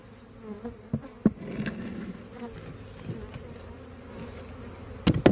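Honeybees buzz at an open hive in a dense, steady drone close by, with occasional knocks and bumps of nearby handling.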